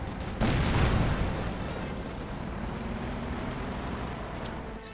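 Heavy cannon fire from a 105mm Sherman tank pounding German troops in the Company of Heroes 2 strategy game, a loud boom and blast near the start that decays into a long rumbling battle din with no voices.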